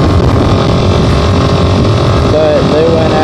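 A GY6 moped engine with a broken exhaust idles loudly and steadily up close, a continuous droning hum throughout with a brief higher whine near the end.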